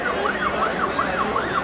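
An ambulance siren wails in a steady, repeating up-and-down cycle, fairly loud and continuous, outside a military barracks during a street demonstration.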